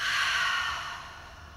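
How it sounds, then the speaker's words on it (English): A long, steady exhale through an open mouth during a yoga flow, close and breathy, fading gradually as the breath runs out. "Open your mouth, exhale."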